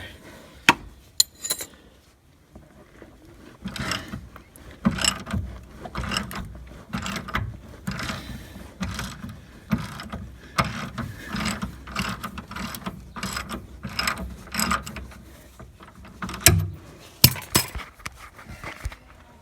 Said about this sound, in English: That's where I'll grab a 15 ratchet and go from here.